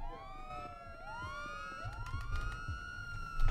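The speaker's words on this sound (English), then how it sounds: "I'm gonna cut my sirens real quick." Wailing police car siren in a roleplay video game, several rising and falling sweeps sounding loud and close, with low engine rumble building underneath and growing louder toward the end.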